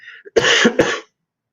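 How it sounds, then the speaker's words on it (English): Two or three harsh coughs in quick succession, close and loud, after a brief faint throat sound. "Sometimes you just have to cough and you just have to cough."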